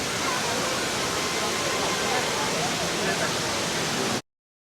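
The Rain Vortex indoor waterfall at Jewel, Changi Airport in Singapore roars as a steady, broad wash of falling water, loud and continuous up close, then cuts off abruptly.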